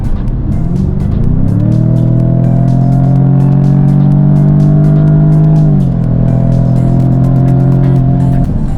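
A Jaguar F-Type accelerating hard in dynamic mode, its engine note climbing steadily in pitch, dropping briefly at a gear change, then rising again. Loud and close throughout, with no talking.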